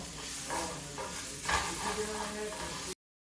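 Ground spices with salt, cumin, coriander and red chilli sizzle steadily in a hot pan while being stirred, a continuous close frying hiss with soft scraping strokes throughout.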